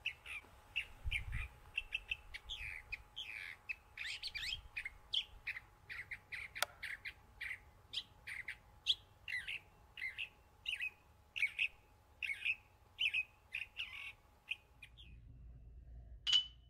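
Percussion imitating the song of a California thrasher: quick bright struck phrases in varied bursts with short pauses, clear and fairly close, over a faint low rumble and no talk.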